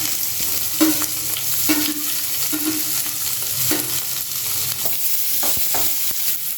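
Onion stirred and fried in hot oil with mustard seeds, urad dal and chana dal for red poha upma, giving a steady close sizzle broken by several scraping stirs, with no talking.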